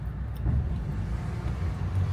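A car rolls aboard a ferry to park, a low, steady engine and road rumble heard close from inside, with faint knocks now and then.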